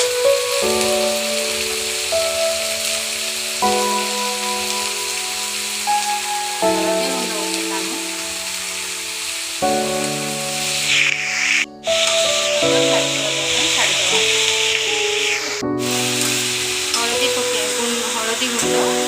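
Cabbage fries in a pan with a continuous hissing sizzle that grows brighter toward the end, heard beneath steady background music, with occasional scraping from stirring.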